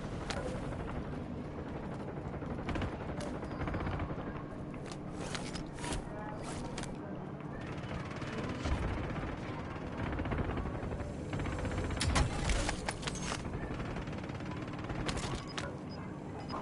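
Gunfire crackles through a Call of Duty: Warzone match, a steady wash of distant shots and bursts layered with game ambience, a few sharper cracks standing out near the end.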